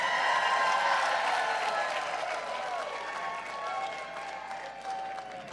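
Audience applauding and cheering at a charity auction event, a steady crowd of clapping that fades slightly over several seconds, with voices mixed in.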